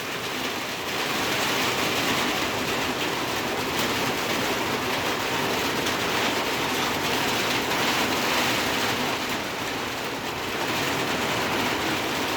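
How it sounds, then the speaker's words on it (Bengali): Steady downpour in darkening stormy weather, a thick continuous roar of rain on surfaces that holds at a loud, even level throughout, with no one speaking. "বৃষ্টির কি শব্দ!"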